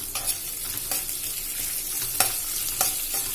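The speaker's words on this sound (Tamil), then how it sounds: "ஒரு பெரிய வெங்காயம் கட் பண்ணி எடுத்து வச்சுக்கிறேன். அதை ஆட் பண்ணி நல்லா வதக்கி விட்டுக்கலாம்." A large chopped onion sautés with lentils in a pan for raw banana podimas: a constant close sizzle punctuated by several crisp spatula strikes and scrapes, without any speech.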